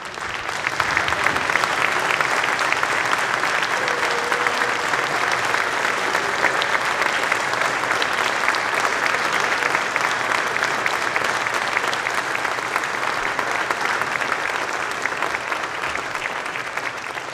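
Applause in a state House chamber for visiting nurses during a floor session: dense, sustained clapping from many members, loud and steady throughout, with no speech over it.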